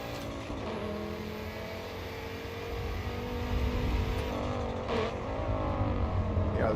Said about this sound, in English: Did the engine just get louder?